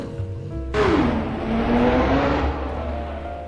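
Game car in Roblox Midnight Chasers revving hard and accelerating, a sharp engine surge kicking in with rising whine that holds loud and steady over a low rumble, no talking.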